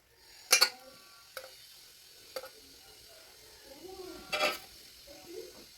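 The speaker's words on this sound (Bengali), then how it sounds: "এবার তেলটা একটু দিয়ে দিব। আলুগুলো দিয়ে দিব এখানে।" Potatoes go into hot oil in a pan for a mutton curry: a few sharp metallic clinks and scrapes of a spoon against the pan, with brief bursts of sizzling between quieter stretches.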